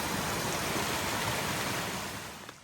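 Creek water running near Cutler Falls in Spear, North Carolina, swollen after recent rain: a dense, steady rushing wash close by, constant and alone, easing slightly at the very end.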